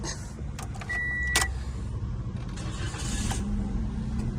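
A keyless Toyota Yaris automatic starts up and idles steadily, a continuous low engine rumble close by with a brief mechanical click and whir near the start.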